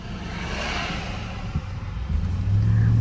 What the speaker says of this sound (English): Look at that nice truck.